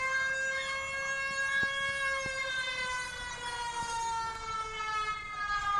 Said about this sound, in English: That'll be the siren here.